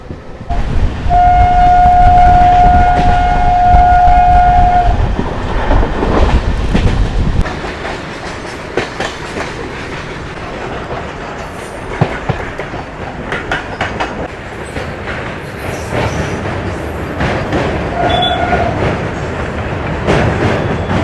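A local train running from Kolkata to Rampurhat rumbles and clatters steadily up close, with a long sustained horn tone early on and a brief high whistle near the end.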